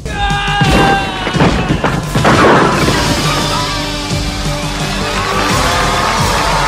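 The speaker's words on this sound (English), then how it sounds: "So of course he breaks all the blocks and wins the day." Blocks set on fire are smashed apart in a film scene, with loud crashing and booming impacts clustered over a dense, continuous roar of music and effects, without any talk.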